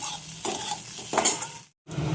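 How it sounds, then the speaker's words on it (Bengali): Cumin seeds temper in hot oil with a brisk, close sizzle and a few spoon scrapes, cut off briefly by a moment of silence before the crackle resumes. "জিরে ফোড়ন দিলাম"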